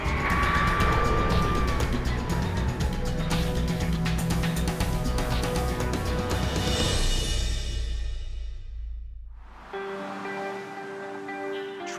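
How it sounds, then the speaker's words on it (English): Road traffic with cars passing close by, a continuous broadband roar of tyres and engines that swells and fades as vehicles go past, then drops away almost to silence before a tonal sound starts. "Traffic, lots of it"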